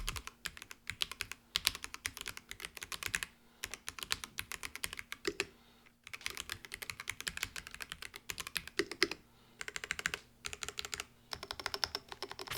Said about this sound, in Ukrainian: Звук друку, до речі, буде прямо зараз.